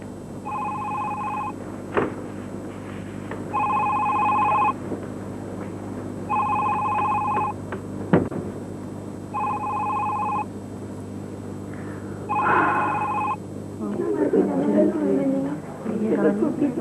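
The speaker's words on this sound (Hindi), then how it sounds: "रिदा, फोन मत उठाना बेटे" Landline telephone ringing indoors in a 1994 Pakistani TV drama, five regular double-tone rings with pauses between them, a couple of thumps, and speech coming in near the end.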